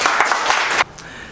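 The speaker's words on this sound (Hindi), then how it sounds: "एक बार जोरदार ताली बजाओ इनके लिए" An audience at a telecom training class applauds a student with a dense burst of clapping lasting under a second, then it cuts off abruptly to quiet room tone.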